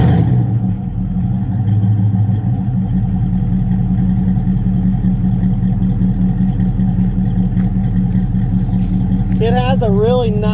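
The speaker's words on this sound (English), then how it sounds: "has a really nice deep rumble" A Chevy C10 V8 fitted with two 40 series mufflers idles with a deep, steady rumble close by, running loud and even throughout, with a brief whine near the end.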